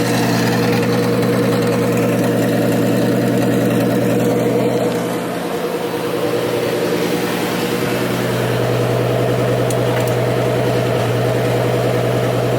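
A single-turbo 2JZ engine in a MKIV Toyota Supra idles steadily after its first startup in years, running lean with no coolant; a loud, continuous low rumble with a slight dip midway, no talking.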